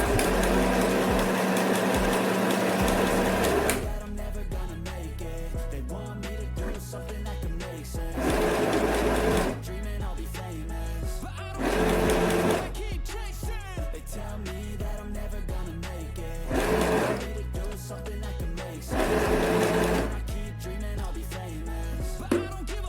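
A small portable FHSM 505 mini sewing machine runs in several bursts of rapid, whirring stitching, stopping and starting between runs, close and steady.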